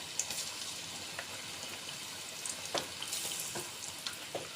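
Chicken pieces for Chicken Manchurian frying in hot oil, a steady close sizzle and crackle with scattered sharper pops, no voices.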